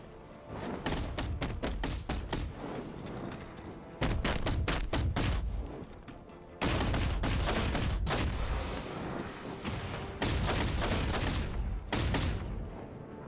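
A sentry gun fires rapid bursts at thugs in Batman: Arkham Knight: loud, dense volleys of sharp shots separated by short pauses, repeating across the span with no talk.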